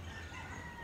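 A rooster crows outside a window, a brief faint tonal call heard over a steady low background hum.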